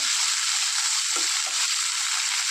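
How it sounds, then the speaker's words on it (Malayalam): Drumstick leaves sauté in a hot pan for a jackfruit seed curry, giving a steady close hiss of frying with a couple of soft stirring scrapes, no voices. "നന്നായിട്ട് അങ്ങനെ ഇളക്കി കൊടുക്കുക തന്നെ കിടന്ന് ഇതൊന്ന് നന്നായിട്ട് വഴന്ന് വരട്ടെ"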